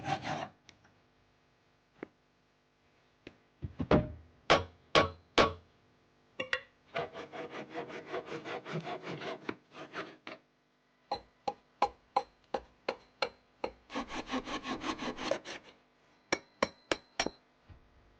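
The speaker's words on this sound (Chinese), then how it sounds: "打孔器在方木上打孔，用木钉固定" Timber being drilled and fixed with wooden pegs while building a log wall in the wilderness: irregular close knocks and taps, with bursts of dense rubbing and rasping between them, no voices.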